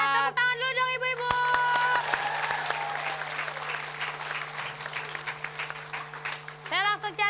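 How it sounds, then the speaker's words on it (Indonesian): A studio audience of women at a comedy game show breaks into loud, busy applause that tapers gradually, with a host speaking just before it starts and again as it dies down. "Tepuk tangan dulu dong ibu-ibu."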